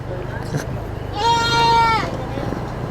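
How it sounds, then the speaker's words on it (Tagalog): A goat gives one clear, wavering bleat at a busy livestock market while it is loaded, rising over steady background noise and people talking. "Oh, kinarga na yung kambing oh."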